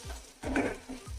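Chopped tomatoes and onions sizzle in a pan for restaurant-style butter chicken while a spoon stirs them. Short scraping strokes cut through the steady frying hiss, and no one talks.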